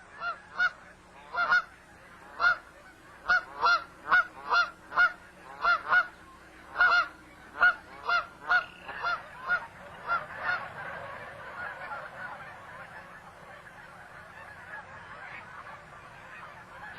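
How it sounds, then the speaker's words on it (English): Cackling geese give a rapid series of sharp, high honks in quick bursts, loud and close at first, then thinning into fainter calls against a steady outdoor background. "These are cacklers."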